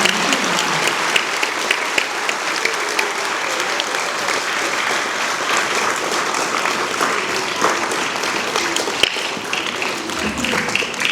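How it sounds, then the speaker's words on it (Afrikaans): A primary-school assembly of grades 1 to 3 claps for pupils in loud, dense, continuous applause from a large crowd of children, with a few sharper claps standing out. "Kom ons klap vir hulle."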